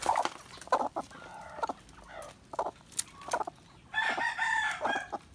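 Native chickens, including a mother hen, cluck in short nearby bursts, with a rooster crowing loudly near the end.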